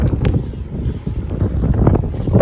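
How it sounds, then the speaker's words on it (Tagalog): Strong wind buffets the microphone outside an Albertsons grocery store, a loud, gusty low rumble that rises and falls without a break. "grabe yung hangin"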